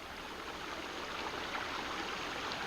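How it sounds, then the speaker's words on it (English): A low creek flows at a swimming hole, a soft, even rush of water that runs unbroken and fairly faint throughout. "Creek is a little low this weekend, but this is our favorite swimming hole"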